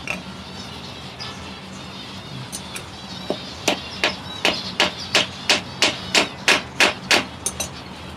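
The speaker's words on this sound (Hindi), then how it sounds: "अब स्क्रू को ठोकेंगे। इसमें मैं इसको ठोक देता हूँ" A screw is hammered into an aviary fitting for a zebra finch colony: after a few scattered taps, a rapid, regular series of about a dozen sharp, close metallic knocks rings out.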